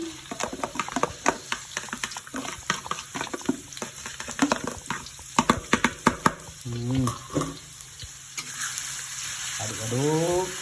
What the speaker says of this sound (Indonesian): Ya aduk-aduk terus ya, bisa aduk sampai dia muncrat.